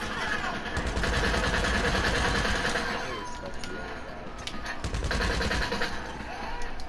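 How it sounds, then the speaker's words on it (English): In a video game, a police officer fires a rapid, machine-gun-like stream of shots at the player, loud and continuous with a short lull midway before the firing picks up again. "What makes things worse is a freaking cop shooting at us."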